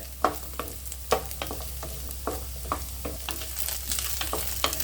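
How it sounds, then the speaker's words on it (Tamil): Onions sautéing in a pan for a spicy radish pachadi, giving a continuous nearby sizzle with regular spoon scrapes every second or so, no voices. "நல்லா வெங்காயமும் கொஞ்சம் நல்லா வதங்கட்டும்"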